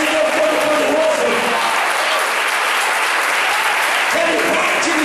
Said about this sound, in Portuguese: aplaude esse Deus tremendo, aplaude esse Deus todo-poderoso.